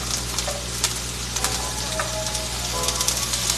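Asparagus spears laid flat in a very hot pan with onions and mushrooms sizzle and crackle steadily, a dense close frying hiss with scattered pops and no voices.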